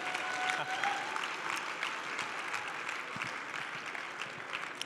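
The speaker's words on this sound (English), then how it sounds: "Let's give them one more round of applause." An audience claps at a Design Slam event at Autodesk University in Las Vegas, a steady, fairly faint wash of clapping from many hands that lasts the whole moment.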